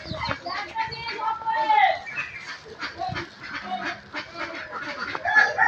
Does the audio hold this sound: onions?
no